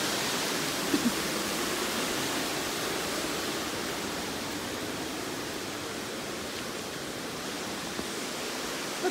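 Steady, dense roar of a clear-water waterfall cascading toward the Pulco river, a continuous broadband rush heard close and alone with no voices.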